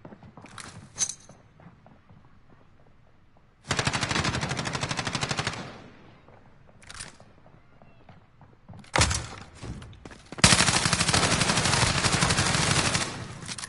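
Warzone video game gunfire: bursts of automatic fire, a short volley near the start, a long burst in the middle, then heavy sustained firing toward the end, loud and close with brief quieter gaps.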